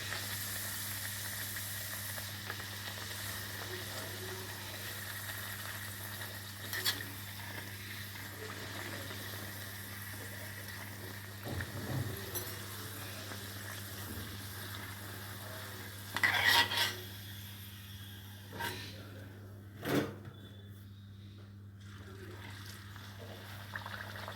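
Moong dal masala puris fry in hot oil with a soft, steady sizzle and hiss, broken now and then by brief clatters from stirring or turning them.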